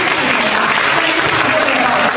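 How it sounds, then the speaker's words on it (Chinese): An audience at a community sports programme launch in Yunlin, Taiwan, breaks into dense, loud applause that fills the short stretch without a break. "掌声一下"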